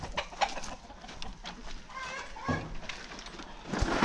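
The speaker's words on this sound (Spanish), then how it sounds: "Porque aquí vemos que tienes puro gallo fino." Roosters and hens cluck on a ranch with fighting cocks, a steady mix of close clucks and a longer crowing call, with faint background noise and a brief voice near the end.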